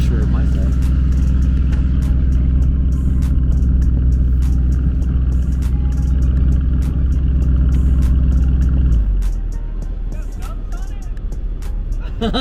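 A Lamborghini Urus set to Corsa mode idles with a deep, loud, steady rumble alongside a TRX before a race, the heavy drone dropping sharply near the end into a quieter, lighter engine note.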